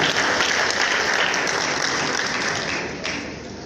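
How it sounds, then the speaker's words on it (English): A round of applause rises from an audience at a governor's media event in Nigeria, many hands clapping in a dense, steady wash that holds strong before tapering slightly near the end. "A round of applause once again for this great man."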